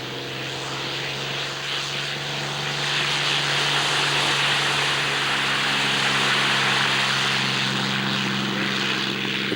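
A Curtiss P-40 propeller fighter taxis on the ground at a 1989 air show at La Ferté-Alais, its engine droning loud and steady throughout with a low rumbling hum.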